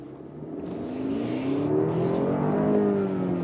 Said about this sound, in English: So let's accelerate.